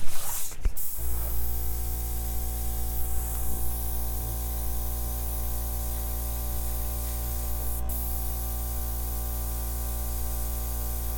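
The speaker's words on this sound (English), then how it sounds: "Then I can airbrush this little edge here." An airbrush sprays acrylic paint along the edge of a poured painting, a steady close hiss with a low compressor hum underneath, preceded by a brief clatter at the start and no talking.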